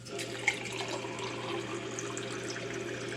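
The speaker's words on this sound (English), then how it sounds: "Okay, we know that that's tap water." Tap water pours steadily onto a few Orbeez gel beads, a continuous soft splashing trickle with a faint hum underneath and one brief sharper splash near the start.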